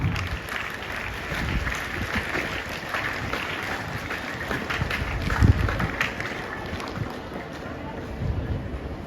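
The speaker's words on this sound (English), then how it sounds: "Let's welcome sir with a big hand clap." Audience clapping at a Children's Day school event, a steady dense patter of hands welcoming a guest, with wind-like rumble and some background voices throughout.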